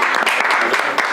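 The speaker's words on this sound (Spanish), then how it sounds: "Aplausos, por favor." Applause at the opening of a Chilean reaction show, a steady dense wash of clapping from an audience that runs for just over a second without a break.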